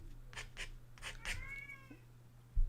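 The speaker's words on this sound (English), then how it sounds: "And that's my cat." A house cat meows indoors, a few short calls followed by a longer rising-and-falling meow, fairly close and alone over a low steady hum, ending with a soft thump.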